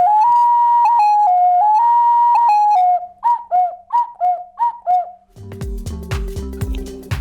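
A large Ukrainian clay whistle (svyshik) plays a breathy melody, first long sustained notes, then a run of short hooting toots, before a denser mix of other instruments comes in.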